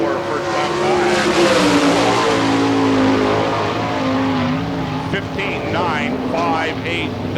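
Sprint car at an All Star Circuit of Champions dirt track race in Hartford, Ohio, accelerating hard out of turn four, a loud sustained engine roar with rising and falling pitch under a public-address announcer talking.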